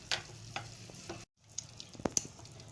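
Mawa being roasted and stirred in a pan for sesame mawa laddu, with soft scraping strokes of a spoon and light sizzling in irregular bursts, close up, broken by a brief silent cut.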